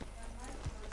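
Horse hooves clip-clop in the Red Dead Redemption 2 game world, a brief near step or two over a low steady ambience with a voice talking.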